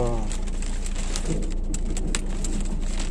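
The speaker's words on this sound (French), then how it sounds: "Il y a une espèce de tempête là, qui est en train d'arriver, une espèce de pluie étrange." A storm is arriving over wooded land with lightning nearby. Steady rain and gusting wind roar loudly and continuously, with brief crackling bursts.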